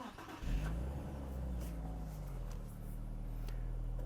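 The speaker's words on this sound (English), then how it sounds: "I'll start it up for you." A Nissan Z Nismo with an enhanced exhaust starts up, a brief crank settling into a steady, deep idle that stays close and continuous with no talking over it.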